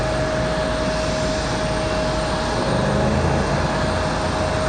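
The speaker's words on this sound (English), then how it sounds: "So the American 777 will be our last plane of the evening." American Airlines Boeing 777 departing Raleigh-Durham International at night, a steady loud jet engine roar with a sustained whine, continuous and close throughout.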